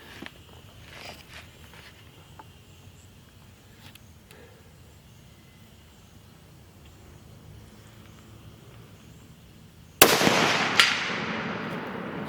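A Browning X-Bolt Speed rifle in 300 WSM fires a single sharp, loud report after ten seconds of quiet outdoor background, the blast decaying over the following seconds toward a steel target roughly 200 to 250 yards away.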